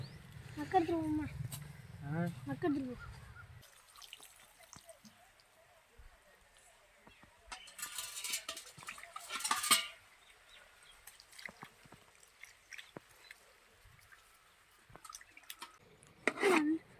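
Water splashes and swishes as chicken pieces are rinsed in a bowl, with scattered drips and knocks; a voice speaks briefly at the start.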